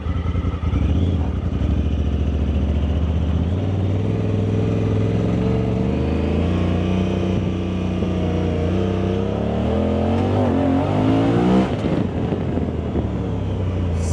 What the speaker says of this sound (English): we're just gonna take a couple quick laps around the yard, rip it